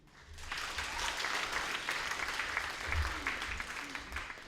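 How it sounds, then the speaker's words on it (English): Applause from the audience at a national secondary school debate final follows a speaker, with many hands clapping steadily at a moderate distance and fairly faintly, holding for a few seconds. "Round of applause for the first speaker of Tei Abal Secondary, Douglas Pilato."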